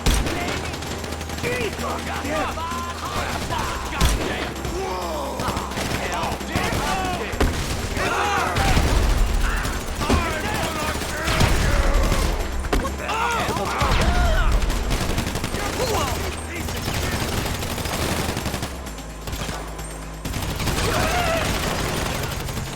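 Dense, sustained gunfire from a GTA Online shootout mission: rapid overlapping automatic bursts and single shots pile up almost without pause, mixed with loud shouted voices and game effects throughout.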